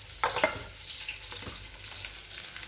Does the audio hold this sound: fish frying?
yes